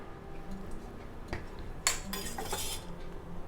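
A metal spoon stirs cauliflower rice in a cooking pan, giving a sharp clank and then a quick cluster of scraping clinks against the pan over a low background hum.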